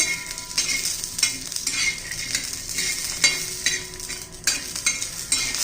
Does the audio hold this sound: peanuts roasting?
yes